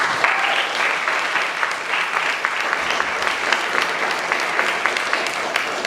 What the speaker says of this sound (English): Give another round of applause, everyone.